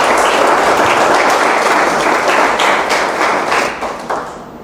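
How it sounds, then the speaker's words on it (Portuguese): An audience at a book launch claps loudly and steadily in a dense, close wash, some hands standing out as sharp taps before the applause thins and tapers at the end. "Mais uma vez, várias palmas."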